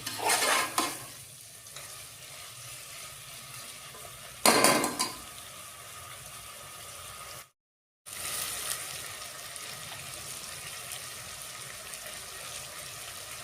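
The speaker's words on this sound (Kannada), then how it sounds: "ಆಯಿಲಲ್ಲಿ ನೀಟಾಗಿ ಫ್ರೈ ಆಗಬೇಕು ಅಂತ 5 ಮಿನಿಟ್ಸು." Masala frying in oil and being stirred for a field-bean biryani: a low steady sizzle with two bursts of louder hissing scrapes, then a brief cut to silence before the quiet frying resumes.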